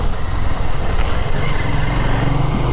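A Honda CBF190X with a single-cylinder, air-cooled, fuel-injected four-stroke engine runs steadily and loudly close by, its low throbbing drone holding constant for a few seconds with no talking.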